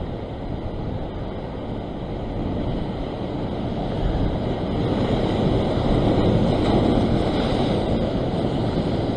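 Wind and surf at a rocky seaside fishing spot, a constant loud broadband roar of waves and gusting wind buffeting the microphone, swelling slightly louder partway through, with no voices.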